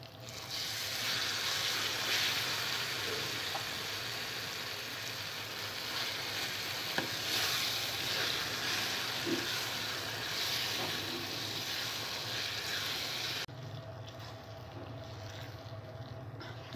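Ground gongura (sorrel leaf) chutney frying in a pan after a tempering of dried red chillies, curry leaves and garlic, giving a steady broad sizzle and hiss that carries on throughout, quieter and more muffled over the last few seconds.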